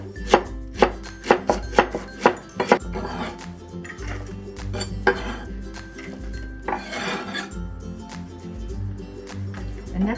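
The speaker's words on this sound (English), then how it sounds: "And for the Napa cabbage, we're going to slice it thinly." Knife chopping thinly through Napa cabbage on a cutting board for a vegetarian stir fry: a quick run of sharp, close knocks early on, then softer irregular slicing with faint kitchen clinks.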